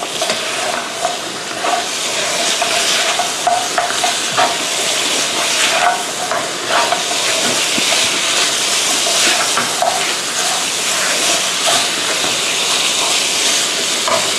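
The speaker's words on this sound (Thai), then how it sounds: "เสร็จแล้วก็ผัดให้เข้ากันอีกครั้งนึงค่ะ" Pork ribs with lemongrass and kaffir lime leaves stir-frying in a pan: a steady, close sizzling hiss runs the whole way through, with faint scraping and stirring clicks and no voices.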